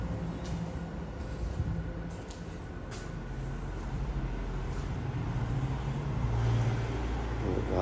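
Road traffic rumbles past outside an abandoned, fire-damaged children's home, a steady low drone from vehicles with a few faint higher clicks, continuous and moderately loud throughout.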